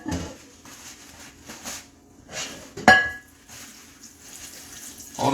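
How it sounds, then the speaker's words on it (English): A plate is washed at a kitchen sink, with running water bursts, a sharp clink of dishware near the middle, and scattered clatter between quieter gaps. "This is me washing a plate."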